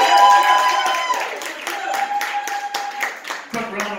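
Applause for a performer at a live event, a spread of claps with some crowd noise and a brief tonal sound over it, moderately loud and settling toward the end.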